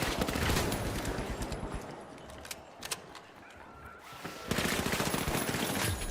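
Rifle fire in a shooting video game, rapid loud bursts of shots with a brief quieter stretch in the middle before the firing resumes.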